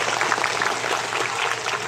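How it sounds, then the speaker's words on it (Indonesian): A crowd at an Islamic religious gathering claps steadily, a dense, even wash of applause throughout. "Saya minta semangat tepuk tangan dulu untuk keluarga besar TSM Muara Jaya"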